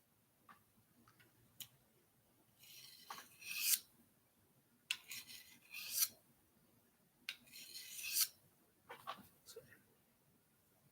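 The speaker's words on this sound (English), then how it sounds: "Sharpening a blade is always good to teach you something." A blade being sharpened, bursts of bright rasping strokes repeated at irregular intervals, close and fairly loud, with small ticks and taps between them.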